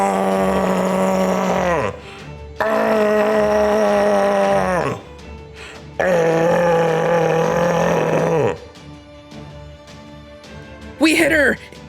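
In Fate/Grand Order, Demeter lets out long, loud, groaning screams after being hit by a cannon, three drawn-out wails separated by short pauses, then a brief high cry at the end.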